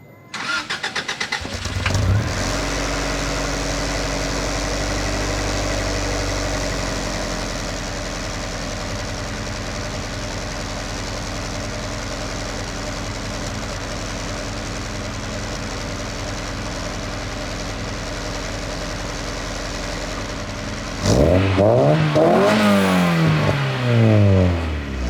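A car with a Yonaka catback exhaust starts, settles into a low, steady idle for a long stretch, then revs sharply with rising engine notes near the end, loud and close.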